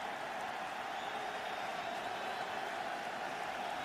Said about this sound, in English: This crowd rising to their feet. Rooting on the defense.